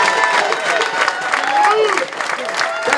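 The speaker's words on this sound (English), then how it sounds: "Give these guys a nice round of applause." A crowd at a final-night celebration gives the staff a round of applause, clapping mixed with cheers, whistles and voices talking over it, loud and lively throughout.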